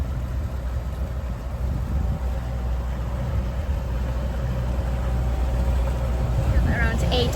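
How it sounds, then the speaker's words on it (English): A sailboat motors under engine power off Salerno, a low steady engine drone with water wash running throughout, no voices. "We are motoring, there's no sailing, there's no motor sailing to be done."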